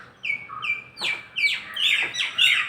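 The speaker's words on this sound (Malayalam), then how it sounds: "എൻ്റെ അടുത്ത് കിളിമക്കളുണ്ട് കേട്ടോ" Small birds chirp repeatedly in quick, high bursts, several calls overlapping and growing busier toward the end, fairly close with no talking.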